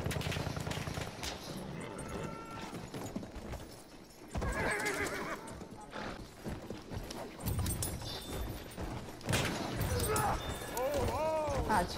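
Galloping hooves and a whinnying white horse in the video game Battlefield 1, set amid distant gunfire and game effects, with someone talking over much of it.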